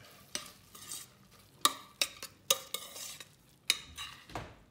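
Spoon scraping and clacking through lentil and white asparagus risotto in a pan, a series of sharp close knocks against the pan over a soft background sizzle, with no talking.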